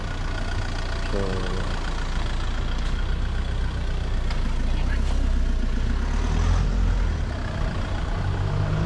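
Vehicles idle in traffic just behind a person on foot at a city street, a steady low engine rumble and road noise filling the scene while the person talks briefly over it.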